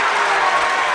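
Spectators in a high school basketball finals gym, Windsor versus Thetford Academy, clap and cheer in a sustained, roomy wash of crowd noise, loud and continuous with no distinct voices on top.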